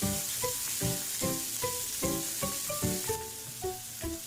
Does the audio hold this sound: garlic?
yes